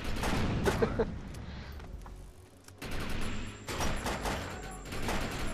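Pistol fire in the video game Defiance, including a revolver and a pistol with a fire effect, heard as several sharp bursts of rapid shots with a brief quiet gap midway.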